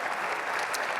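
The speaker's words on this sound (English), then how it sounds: "Can we give a round of applause for both of our sponsors?" Audience at a transit agency's annual address applauding its sponsors, a brief burst of dense clapping from a large crowd, steady and moderately loud.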